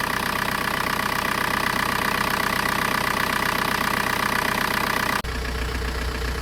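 A car engine idles steadily and loudly after repairs to squeals and knocks under the hood, including alternator and compressor removal, with a continuous hum that shifts abruptly in tone near the end.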